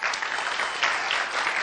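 A studio audience at a talent competition broadcast applauds in a dense, even wash of clapping that holds steady from start to finish.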